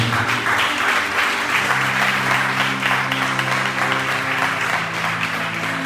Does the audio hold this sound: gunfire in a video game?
no